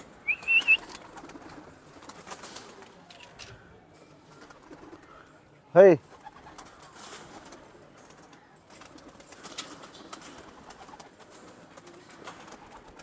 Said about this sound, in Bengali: বারোটা পায়রা ছাড়া হলো আকাশে